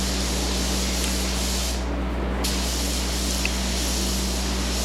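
A spray gun set to low pressure sprays paint onto small mirrors laid on a board, making a loud, steady hiss with a brief break partway through, over a constant low hum.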